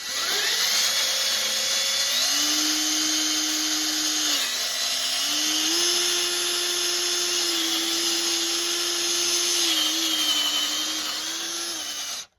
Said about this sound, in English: It took 3 tries, but I was able to get a hole drilled out